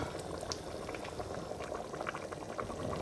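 Chickpea and chicken curry (murgh channay) bubbles in a pot on its own, giving a steady, close-up boil with a continuous wet, frothy texture and no voices.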